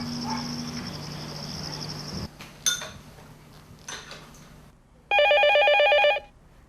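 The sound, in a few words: telephone ringing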